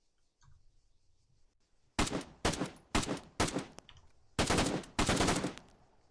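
Bursts of automatic rifle fire from a KM72, an East German AK, in the video game Arma 3: six sharp, loud volleys in quick succession after a brief quiet start with faint low rumble.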